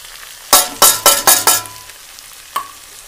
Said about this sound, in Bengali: গাজর দিয়েছি আবার, দিয়ে আমি একটু কষিয়ে নিই।